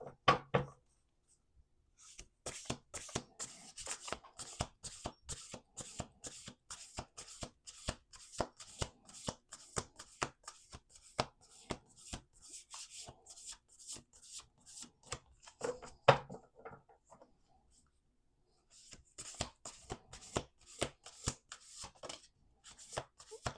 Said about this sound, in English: Okay, we're going to do 2 more shuffles.